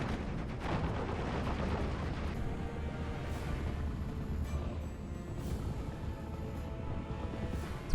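A Pak 38 anti-tank gun fires from a tree line in the Normandy 1944 battle game Steel Division, heard within a dense, continuous rumble of battlefield booms and gunfire with no clear individual shot standing out.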